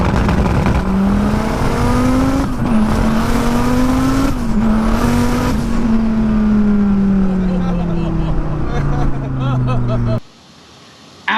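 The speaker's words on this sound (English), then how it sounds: "twin-turbo Lamborghini Huracan Performante" A twin-turbo Lamborghini Huracan Performante accelerates hard, its loud engine note climbing through gears with brief shift dips, then fading as it pulls away before the sound cuts to near silence.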